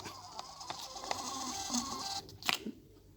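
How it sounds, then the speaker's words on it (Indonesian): A portable printer prints a market payment receipt, giving a steady mechanical whir with regular ticking for about two seconds before stopping with a short burst of clicks, heard alone and fairly close. "Dan pada printer portable kita lihat sudah tercetak."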